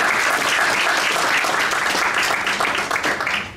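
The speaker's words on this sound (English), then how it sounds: "Let's have a hand clap for them." An audience at an academic talk on the ethics of reconciliation gives sustained applause, a dense steady wash of many hands clapping at close range, with no voices over it.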